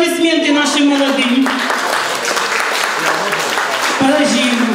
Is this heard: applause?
yes